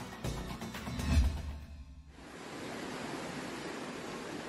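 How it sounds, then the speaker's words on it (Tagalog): Strong floodwater from an overflowing river rushes across a road in Medina, Misamis Oriental, a continuous broadband roar that briefly carries a louder thump before settling into a steady, even wash. "Malakas na agos ng tubig baha mula sa ilog ang umapaw na sa kalsada"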